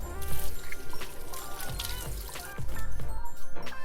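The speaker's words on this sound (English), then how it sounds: "So now I have to wash the liver because there is some blood." Tap water runs loudly over lamb liver being rinsed, a dense, continuous splashing flow with fluctuating surges, close up and without speech.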